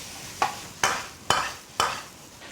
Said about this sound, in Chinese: 炒香后下入儿菜，大火翻炒匀净